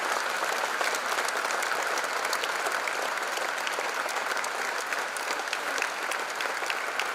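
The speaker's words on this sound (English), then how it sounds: "Please give a loud applause to your parents." A hall full of people at a freshers' induction program clap for parents, a dense, continuous burst of applause that holds steady throughout, unbroken by talk.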